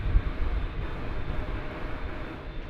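An Embraer 170 jet arriving at DFW airport gives a distant, steady broadband roar with low rumble and no clear peaks, heard on its own for a few seconds.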